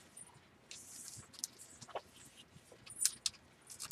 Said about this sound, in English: Oh, now they want to play with a squeak toy.